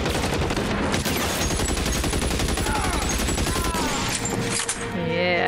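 Rapid bursts of gunfire in the L.A. Noire video game, a dense volley of shots in a cramped office maze, loud and continuous over several seconds with game sound layered in.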